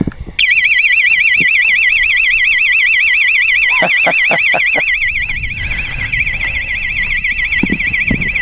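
A loud, piercing electronic livestock-scaring alarm wails in a steady warbling pulse in the outback, with a horse whinnying and faint movement and voices underneath.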